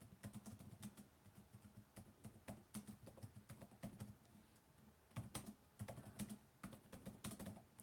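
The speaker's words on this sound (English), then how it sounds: "I was just typing and I couldn't really do both." Typing on a computer keyboard during a live stream: quiet, quick irregular clicks and taps in short bursts, close but soft, with no talking.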